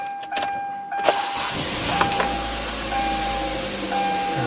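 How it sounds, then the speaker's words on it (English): A car engine cranks and catches after a jump start, the starter whirring briefly before the motor settles into a steady low idle, close and fairly loud with no talking. "Car starts just fine."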